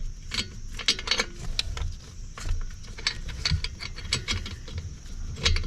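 A ratcheting socket wrench works loose an oxygen sensor on a 2015-2022 GMC Canyon or Chevy Colorado, giving a run of close, uneven metallic clicks and jangles with no voices.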